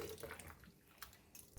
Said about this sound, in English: Fill the water in the bowl.